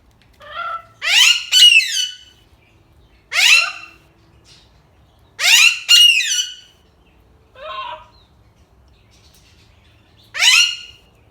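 A pet parrot lets out loud, piercing squawks and screams in separate bursts, some doubled, with short silent gaps between them.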